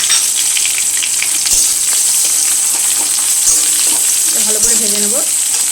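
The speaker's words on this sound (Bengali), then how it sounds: "পেঁয়াজ কুচি করে রেখেছি সেটা দিয়ে দিচ্ছি" Chopped onion going into hot oil in a pan, frying alongside panch phoron and green chilli: a bright, steady sizzle with occasional stirring clatter and utensil knocks, close and continuous, no talk.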